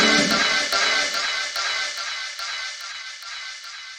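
A layered sample chord dropped a full octave, a sustained shimmering tone over evenly spaced ticking pulses that slowly fades in loudness, with no talking.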